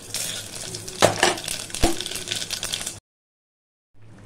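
Whole spices for tempering, panch phoron, hing, dried chilli and bay leaf, hit hot oil in a pot and burst into a loud crackling sizzle with sharp pops, then cut off abruptly into silence before the hiss returns faintly.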